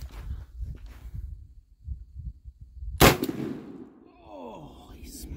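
A single sharp shotgun blast of 7.5 shot fired outdoors at a patterning target, sudden and loud with a ringing tail, preceded by quiet shuffling and faint movement.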